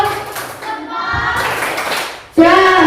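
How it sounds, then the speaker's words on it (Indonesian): Schoolchildren in a classroom do the rhythmic 'tepuk hebat' clapping chant together, bursts of hand claps mixed with their loud chanting voices, close and lively. "Yuk, tepuk hebat. Yang keras."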